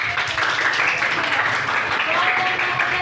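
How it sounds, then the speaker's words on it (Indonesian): Classroom applause as students clap for their classmates during a teaching session, a steady close wash of many hands that holds evenly throughout, mixed with a murmur of voices. "Oke, berikan tepuk tangan kepada temannya."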